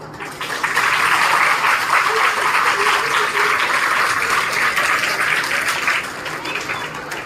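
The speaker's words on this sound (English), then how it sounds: "our lovely participants with a huge round of applause" A school hall audience at the De Paul School Jayanpur dance competition breaks into loud, sustained applause, a thick wash of many clapping hands that holds steady for several seconds and then eases slightly.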